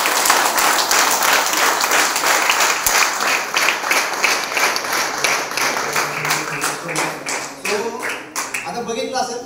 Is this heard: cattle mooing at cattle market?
no